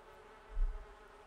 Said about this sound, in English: We have oh, they're bees.